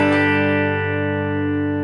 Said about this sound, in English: So you notice the hum. That's the P90 thing.